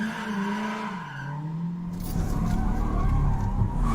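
A car engine hums with a rising tone, then a loud, gritty roar of tires skidding and the engine racing takes over, close and sustained. These are made sound effects meant for a Honda S2000 on a highway.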